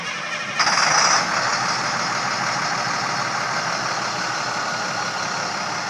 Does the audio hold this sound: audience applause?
no